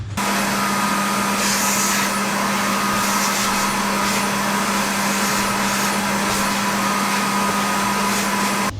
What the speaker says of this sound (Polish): Weźmy sobie odkurzacz.